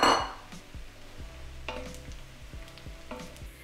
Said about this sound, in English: Next in goes 400 grams or 14 ounces of thickly sliced mixed mushrooms. We're going to fry for about 4 to 5 minutes until softened.